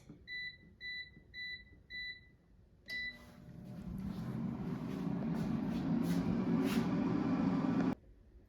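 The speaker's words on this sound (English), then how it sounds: "Now the air fryer is done cooking, so let's take a look." An air fryer cooking a Jimmy Dean Delights egg sandwich at 380 degrees Fahrenheit: four short electronic beeps, another beep, then a steady fan whir running for several seconds before cutting off abruptly.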